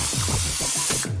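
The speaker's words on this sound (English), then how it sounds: "now I'm going to spray my other pan" Cooking oil spray hissing onto a baking pan in several quick short bursts, close and alone.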